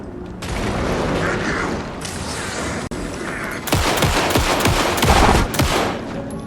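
Rapid gunfire in the horror video game Alan Wake 2, a dense fusillade of loud repeated shots over a continuous roaring game soundscape, with bursts building toward the end.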